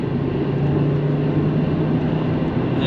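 A 25-year-old Volvo 850 GLT with an inline five-cylinder engine accelerating up Fish Hill, heard from inside the car as a steady droning engine hum under heavy wind and road noise.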